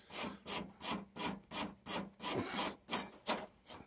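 A burnt speaker terminal on a Honeywell CT410B electric thermostat is scrubbed clean in about ten steady back-and-forth strokes, each one a close, gritty rasping rub with no one talking.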